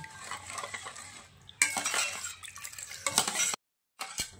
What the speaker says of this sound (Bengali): এখন সব কিছু একসঙ্গে ভালো করে মিশিয়ে নিচ্ছি